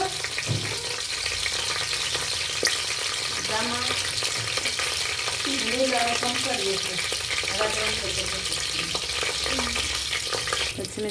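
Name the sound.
green chillies frying in a pan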